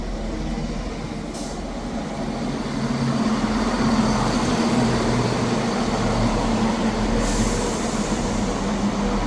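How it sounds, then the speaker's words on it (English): A ScotRail passenger train, unit 170451 on the Leven to Edinburgh Waverley service, arrives at Edinburgh Haymarket station with a steady rumbling roll that swells and holds, with a couple of brief squeals from the wheels or brakes. "Arriving in now is the 11:30 Scotrail service from Leven to Edinburgh Waverley"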